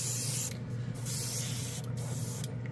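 A Gaahleri airbrush sprays paint in a fine, continuous hiss up close, broken by a few short pauses as the trigger is released and pressed again.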